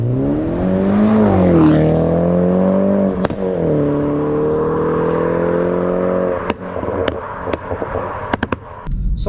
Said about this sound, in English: So I'm now driving the 330e